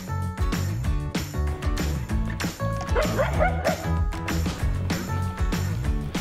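Many dogs bark and yip repeatedly in quick, overlapping bursts, loud and close, with music playing underneath.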